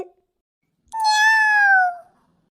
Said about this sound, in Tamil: பூனை கத்துற மாதிரி சத்தம் கேக்குதே.